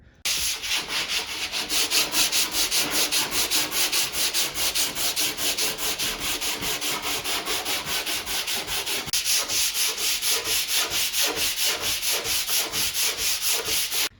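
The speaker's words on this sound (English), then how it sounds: "we just keep sanding until all those little dark shiny spots are gone" Hand sanding flattens a piece of particle board furniture in a steady, even rhythm of rasping back-and-forth strokes that carries on alone and close up.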